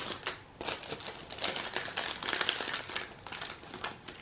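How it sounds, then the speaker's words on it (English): A package of mushroom stickers is opened: continuous crinkling and rustling of plastic packaging, close and fairly quiet, with no talk. "Let me open up the mushroom stickers."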